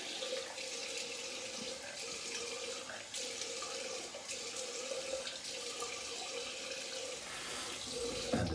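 Tap water runs steadily into a sink for several seconds while a face is wetted before a straight-razor wet shave, a continuous moderate splashing rush with no talking.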